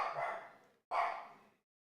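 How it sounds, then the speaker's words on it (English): A small dog gives two sharp, loud barks close by, the first longer and the second after a brief pause, then silence. "my little dog is like a little Rottweiler"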